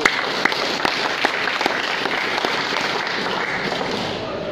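Church congregation applauding during a sermon, a steady roomful of clapping with a few sharper individual claps standing out, fairly loud and continuous throughout.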